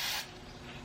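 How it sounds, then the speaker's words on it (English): WD-40 Specialist Spray and Stay Gel Lubricant sprayed from its can gives one short, sharp hiss lasting a fraction of a second, followed by faint mechanical rustling. "WD-40 Specialist Spray and Stay Gel Lubricant comes in this ultra mega handy can that can be used standard style"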